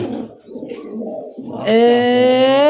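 Pigeons murmur low and softly at first, then a louder, sustained coo rings out close by.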